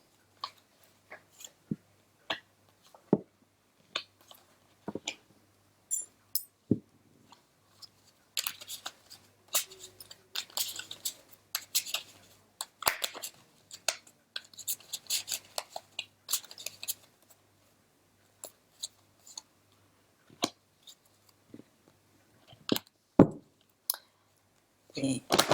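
Sacred Feminine Tarot cards being laid out by hand, giving scattered light clicks and soft shuffling taps with bursts of card handling in the middle, close and fairly quiet, with no talking.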